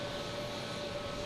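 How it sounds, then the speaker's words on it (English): A Spirit Airlines airliner landing at Boston Logan, heard as a steady, loud broadband jet roar with a faint whine, continuous and without any voices. "There's a Spirit coming in here, making a lot of racket."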